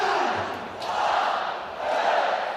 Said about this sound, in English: The crowd counting us down for the final match for these two teams